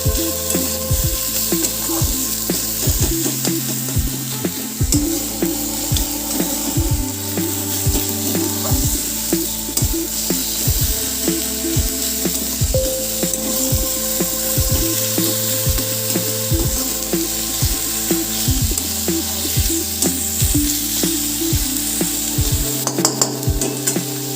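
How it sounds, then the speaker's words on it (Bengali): Onions frying in a pan with salt and a little sugar, giving a continuous sizzle with regular scraping and knocking strokes at a steady rhythm across the whole stretch. "তো আমার পেঁয়াজটা প্রায় ভাজা ভাজা হয়ে গেছে।"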